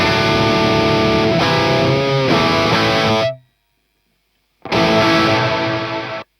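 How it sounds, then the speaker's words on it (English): A distorted electric guitar with humbucker pickups plays classic rock chords through a reverb pedal, loud and sustained, then cuts to a full second of silence before the chords return. "give it some good old classic rock with humbuckers and see how it sits as a meat and potatoes reverb"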